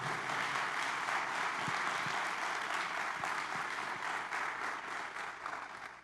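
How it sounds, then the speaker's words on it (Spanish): A church congregation breaks into strong applause during a sermon by Pastor Carlos León, steady, dense clapping from many hands, somewhat distant and soft, sustained for about six seconds with slight fading. "dale un fuerte aplauso al Rey."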